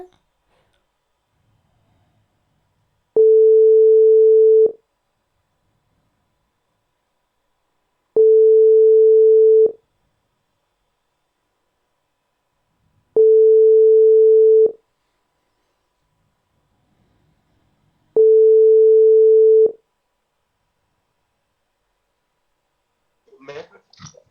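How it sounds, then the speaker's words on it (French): A telephone ringback tone sounds four times as long, even steady beeps with pauses between them, followed by a faint rustle at the end. "On va lui donner un petit coup de fil"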